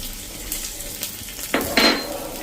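Chopped green chillies dropped into hot oil in a pan: a soft background sizzle, then a louder burst of crackling and spitting as they hit the oil, with light clinks of utensils.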